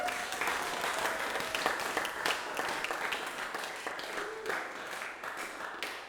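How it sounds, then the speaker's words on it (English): Wedding guests clap and applaud after the speeches at a reception, a dense, steady wash of many hands close by that keeps going for the whole stretch, with a few louder individual claps and a faint voice or two underneath. "So let's give another hand of applause and a big shout out to Rick and Adrienne."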